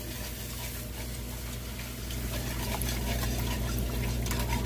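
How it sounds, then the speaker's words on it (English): Beef broth pouring into a pot of mushroom gravy for chuck roast, a steady close splashing stream that continues throughout with no talking. "And we're going to do about a cup of beef broth."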